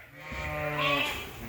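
A single drawn-out sheep bleat rises and wavers on a sheep farm, close by and fairly loud, with no talk.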